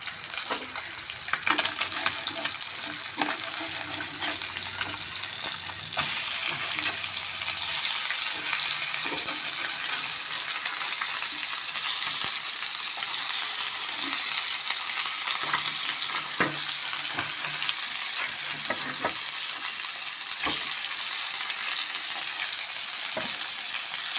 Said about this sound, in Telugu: పాన్లో ఆయిల్ వేసుకొని ఫిష్ ఫ్రైకి వేసేసాను